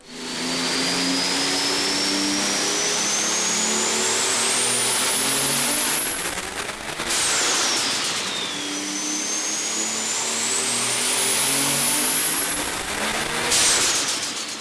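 A loud Nissan RB26 racing engine roars continuously on a dyno, its whine climbing steadily in pitch twice before dropping off, like a motor being run up hard and released.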